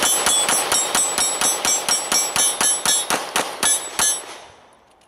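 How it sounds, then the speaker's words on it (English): Rapid 9mm shots from a Browning Hi-Power with a 20-round magazine ring off steel targets, about fifteen sharp reports with metallic pings in a quick steady string, then a fading ring-out. "I thought we would do a mag dump on the steel and see what kind of fun I can have"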